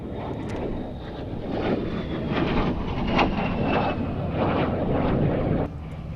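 A de Havilland Vampire single-seater jet comes in to land at the Duxford Battle of Britain air show, its engine a steady loud roar with a high whine, sustained and fairly close throughout.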